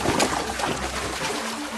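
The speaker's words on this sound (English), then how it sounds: "I'm going to create the boat actually going through the water" Foley of a boat moving through water: a close, continuous swishing and sloshing of water, with gentle splashes and trickles, no talking.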